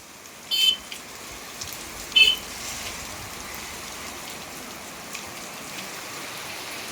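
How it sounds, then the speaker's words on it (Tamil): Steady rain falling at a foggy hill station viewpoint, a soft continuous hiss throughout, with a couple of brief high beeps near the start. "ஸோ அதுக்காக கண்டினியூஸாக மழை பெஞ்சிக்கிட்டே இருக்குது."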